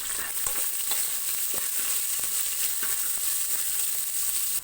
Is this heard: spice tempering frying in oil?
yes